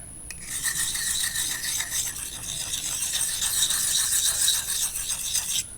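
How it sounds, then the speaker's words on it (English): A knife blade is drawn repeatedly across a coarse sharpening stone, making a steady, close, rasping scrape of even rhythmic strokes that runs the whole time without any talk. "I'll start with a coarser stone and give it a few licks like this."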